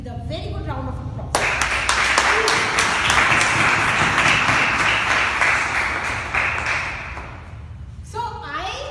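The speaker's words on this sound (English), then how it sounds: "let's start the installation ceremony with a very good round of applause" A room full of people bursts into loud, sustained applause at an installation ceremony, dense clapping for about seven seconds with a few louder individual claps, framed by a speaking voice before and after.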